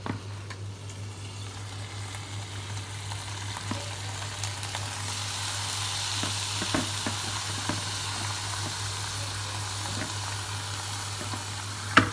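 Pork stir-frying in a pan for a Thai spicy pork stir-fry, a steady broadband sizzle running throughout with scattered clicks and light knocks of stirring, close and fairly loud, no talking.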